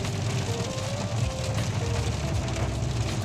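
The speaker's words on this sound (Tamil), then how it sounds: "வாட்டர் வாஷ் ஆகுது வண்டி." Heavy rain pounding on a car driving at night, a dense continuous hiss of drops on the roof and windshield over a low road and engine rumble.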